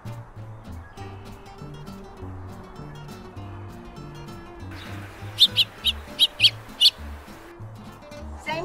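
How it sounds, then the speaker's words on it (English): Male house finch handled at a bird banding event gives a series of about six sharp, close chirps in the second half, over low background murmur. "No, this is a house finch."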